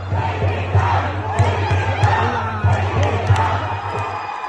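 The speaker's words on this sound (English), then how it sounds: "while a crowd is chanting, take it down" A protest crowd chants and shouts together, loud and close, rhythmic bursts of many voices over a continuous low hum.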